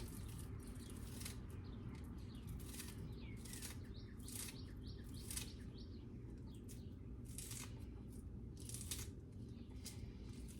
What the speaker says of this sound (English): you can just use a pair of scissors and cut them up real small